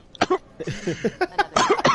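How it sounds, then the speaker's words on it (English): A person coughs in a burst of several harsh, close coughs, with throat-clearing sounds mixed between them and no clear talking. "Oh God, really got a cough today"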